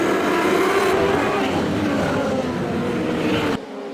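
Modlite race cars lap Archerfield Speedway in an A-main, a loud sustained engine roar with a wavering pitch that drops away sharply at the end.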